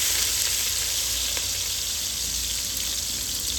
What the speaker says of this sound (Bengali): তারপর পেঁয়াজগুলোকে নাড়াচাড়া করে ভালোভাবে ভেজে নিব।